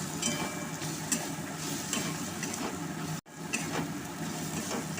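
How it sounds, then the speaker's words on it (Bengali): Cumin, coriander and garam masala powders frying in a pan give a continuous close sizzle with scraping stir strokes throughout, broken by one brief dropout near the end. "সব মশলাগুলো খুব ভালো করে কষিয়ে নিচ্ছি"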